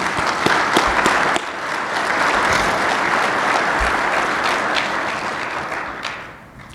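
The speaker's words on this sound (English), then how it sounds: "I guess this time I'd like you to join me in applause for our staff." An audience at the 2023 PCG annual meeting applauds the staff, a steady, full round of clapping from many hands that holds for several seconds before tapering off at the end.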